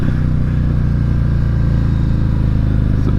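A Harley-style motorcycle with a Milwaukee 8 engine rumbles along on the road in a steady, loud, low-pitched drone with a deep, even throb and no voices.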